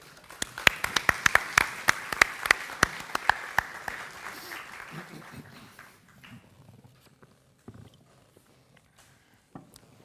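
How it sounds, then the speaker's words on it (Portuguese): Indoor audience at a reading event applauds with sharp, dense clapping that tapers off after about six seconds, leaving a few scattered claps in a quiet room. "Uma salva de palmas, por favor."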